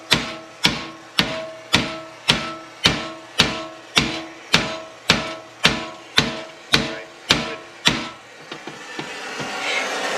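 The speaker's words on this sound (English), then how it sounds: "Hitting that with the hammer as we're holding it." Hammer blows ring out on a 30-inch Harbor Freight sheet metal brake, about fourteen evenly spaced strikes, loud and close, followed by a rising mechanical whine and clatter.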